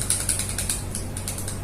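Rapid, even clicks come from a wobbly, poorly fitting push button pressed repeatedly up close, a quick ratchet-like series of about ten sharp ticks over a faint low hum.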